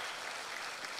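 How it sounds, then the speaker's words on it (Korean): A church congregation claps together during a 40th anniversary thanksgiving service, a brief, faint wash of even applause from many hands in a large hall. "우리 하나님께 감사 박수 한번 올려드리도록 하겠습니다."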